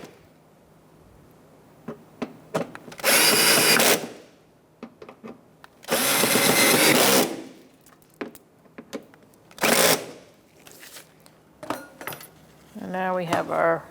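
Power tool driving bolts into the front inner fender liner of a 2014-2019 Kia Soul, three loud whirring bursts of about a second each, separated by quieter clicks and handling knocks.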